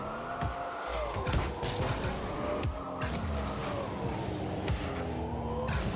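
A Cybertruck in Rocket League makes a droning, whining engine sound whose pitch rises and falls in smooth sweeps, mixed with tire screeches and passing car noise during a match. It stays loud and continuous throughout.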